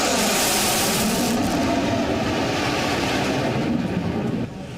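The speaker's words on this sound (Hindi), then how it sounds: "सुखोई और मिराज जैसे लड़ाकू विमान उड़ान भरते हुए दिखाई दिए" Sukhoi and Mirage fighter jets take off from a highway strip during an Indian Air Force exercise, a loud, continuous roar sustained throughout before easing slightly at the end.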